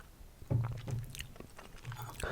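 Steak with onions and mushrooms is bitten and chewed close to the mic, with a sharp bite followed by soft, moist crunching and squelching chews in an intimate, quiet setting.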